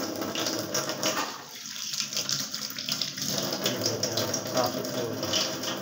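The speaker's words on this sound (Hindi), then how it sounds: "मैं भी ठंडे पानी से धो रहा हूँ।" Steady running cold tap water splashing into a sink, continuous and close, with faint handling sounds as eggs are rinsed under the stream.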